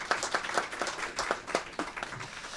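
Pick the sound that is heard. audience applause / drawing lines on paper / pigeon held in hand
audience applause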